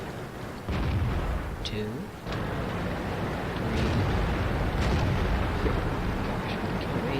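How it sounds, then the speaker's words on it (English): Firefly tanks firing their guns in a video game, several booming shots over rumbling battle noise, with someone talking over the action. "Fireflies are firing."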